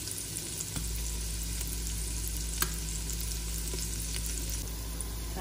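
Vegetables with a tablespoon of tomato paste frying in a pan for a short rib ragu, giving a continuous steady sizzle with occasional faint stirring clicks, close and fairly quiet.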